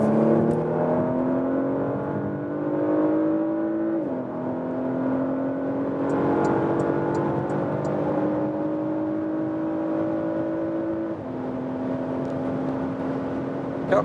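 A 2022 facelift Porsche Macan S with a petrol engine accelerates hard, its engine note climbing steadily through the gears with brief drops at each shift, heard from inside the car, loud and continuous.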